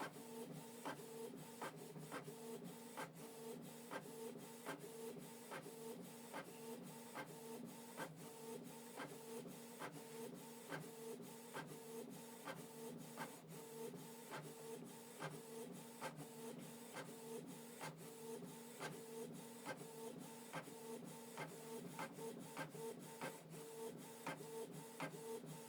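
A Canon Pixma TS3450 inkjet printer prints an A4 document, with a steady whirring mechanism and evenly spaced clicking ticks repeating quietly throughout, no talking.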